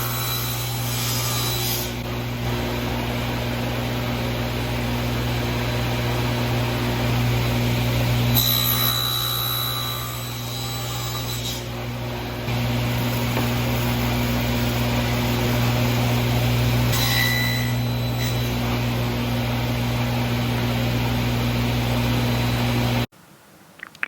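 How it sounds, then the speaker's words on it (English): Table saw cutting squares and notching out corners in wood, a constant loud motor drone with a steady hum, broken by several passes of the blade through the wood, each a brief rise in rasping noise, running over twenty seconds before cutting off abruptly. "I cut the squares on the table saw, then cut the corners out on the table saw."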